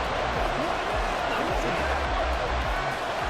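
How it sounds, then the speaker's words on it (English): Continuous stadium crowd roar in Madden NFL 24, Minnesota Vikings versus Denver Broncos, a steady, broad wash of noise without breaks, with low thumps from the field underneath. "Crowd getting in it a bit already."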